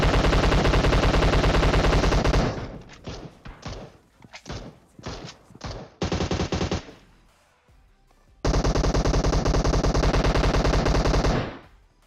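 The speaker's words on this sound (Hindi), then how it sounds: "अब यहां पे मैंने दो बंदों पे फायरिंग दी है" Bursts of automatic gunfire from the PUBG Mobile battle royale game: a loud sustained volley, then scattered shorter shots, another volley, and a final long loud burst, with no talk.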